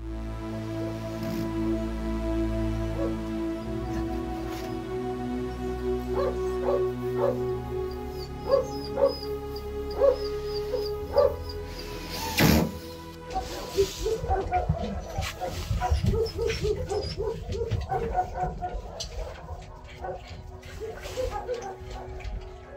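Dogs at an overcrowded animal shelter bark and yelp in short bursts, with whimpers and whines between them. The sounds stay close and fairly loud, and a few livelier clusters of barking come in the second half.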